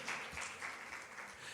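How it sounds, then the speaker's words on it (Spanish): A church congregation applauds during a service, giving a steady, moderately quiet wash of many hands clapping together without a clear rhythm. "Dale una ofrenda de palmas al Señor por su gracia"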